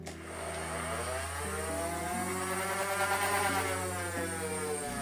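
The single fat flywheel of a Nerf blaster with a binary trigger spinning up, a close, sustained whirring buzz that climbs in pitch in steps over several seconds, alone without talk.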